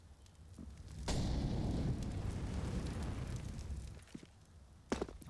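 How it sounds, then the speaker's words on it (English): A grenade goes off in Counter-Strike on the Mirage map during a pro match, a sudden loud rumbling blast that rolls on for about three seconds before fading, followed by a few light footsteps and clicks. "this nade is going to soften up that of Masuda if chucked deep enough"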